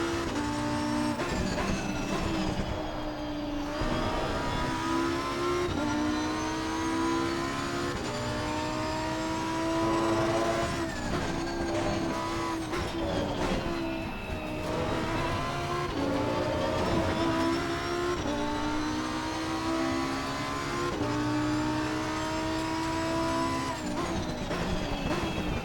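Lamborghini Huracan EVO racing around Imola in the Assetto Corsa Competizione sim, its engine droning and revving steadily with repeated rises and drops through gear changes, loud and unbroken throughout.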